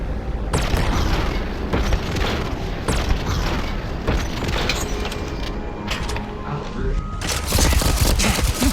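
Loud, dense gunfire from a shotgun and other weapons during combat in the sci-fi video game Starfield, with repeated booming blasts and rapid volleys sustained throughout and a heavier burst near the end.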